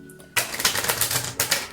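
A deck of oracle cards being shuffled close by, a dense riffling rustle that starts suddenly after a quiet moment and then continues with brief surges.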